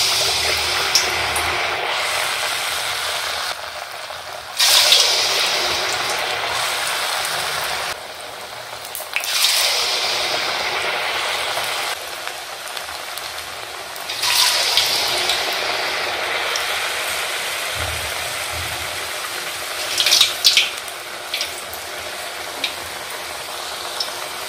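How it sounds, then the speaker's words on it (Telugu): Bottle gourd rice-flour vadas (garelu) fry in hot oil, a steady dense sizzle and bubbling with louder swells each time another piece drops in. "ఒక్కొక్క గారె నూనెలో వేసుకుందాం"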